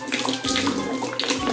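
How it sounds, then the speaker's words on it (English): Water poured out of a container in a home experiment, splashing and gushing loudly and up close, with surging bursts of pouring over about a second and a half. "When you pour water out,"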